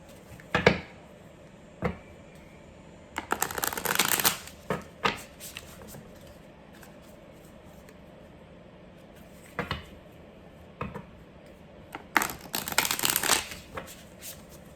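Oracle cards are shuffled in several short, crisp bursts of riffling and flicking, separated by quiet pauses, close and fairly soft with no talking.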